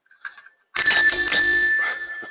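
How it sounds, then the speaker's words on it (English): A new bicycle bell rings once, loud and close, its bright metallic tone sustaining and slowly fading after a brief faint sound just before it; no one talks. "got a new bell for my bike."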